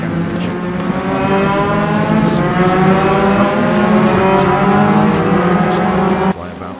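An Audi Quattro rally car engine drones loudly and steadily with rising, revving harmonics, then cuts off abruptly near the end; a voice appears to talk over it.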